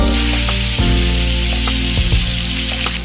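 Meat searing in oil for a pot roast, a loud continuous close sizzle with occasional pops and clunks of the pan, no speech.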